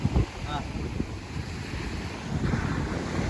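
Ocean waves wash in at Azhikkal beach in Kerala, a broad rumbling surge under strong wind buffeting the microphone, with voices briefly heard.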